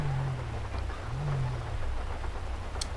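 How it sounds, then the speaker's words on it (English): Rain and thunder in the video game GTA V during a stormy highway scene: steady rain hiss over a deep rumbling low roll, with a faint brief tick near the end and no voices. "It is raining."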